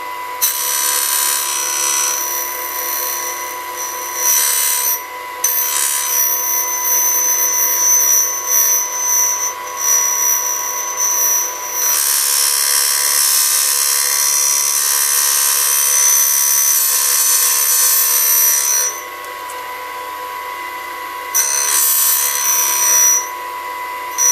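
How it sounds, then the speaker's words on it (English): A bench grinder grinds the front face of an 8mm drill bit being shaped into a counterbore, a steady high whine with harsh rasping bursts that come and go as the bit is pressed against the wheel. "I'm going to swing this in until I start grinding that front face that we did before"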